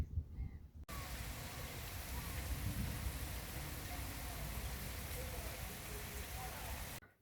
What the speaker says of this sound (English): now the rain is approaching menacingly in the distance